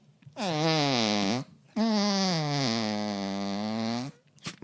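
A voice imitates a long, buzzy fart with her mouth in two drawn-out bursts, the second longer than the first, close and loud.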